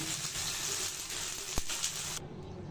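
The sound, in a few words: fried garlic and chili tempering poured sizzling onto haleem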